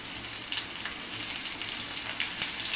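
Prawns fry in a pan with onion softened in oil, giving a steady close-up sizzle with small crackling pops scattered throughout and no talking.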